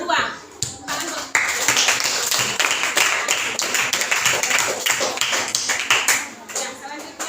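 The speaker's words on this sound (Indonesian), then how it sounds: "Tepuk tangan buat kelompok beruang." Classroom applause for a group of students: a burst of many small hands clapping in a quick, uneven patter, fairly loud and close, with children's voices mixed underneath.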